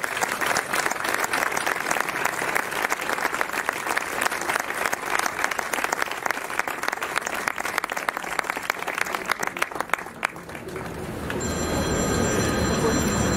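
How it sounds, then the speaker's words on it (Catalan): Sustained loud applause from a large crowd at a gathering in front of an old prison, dense and continuous, fading into a steady roomy murmur with a faint ringing tone near the end. "Un aplaudiment molt gran per totes les dones"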